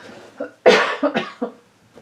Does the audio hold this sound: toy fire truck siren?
no